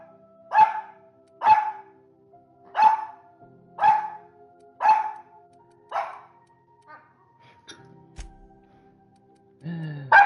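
A dog barks indoors in a steady series of six sharp, evenly spaced barks at moderate distance, then falls quiet apart from faint clicks before another bark at the end.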